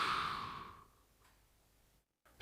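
A long, soft exhale from someone doing a shoulder exercise with a stick in a seniors' workout. The breath is close and clear, then fades away into quiet.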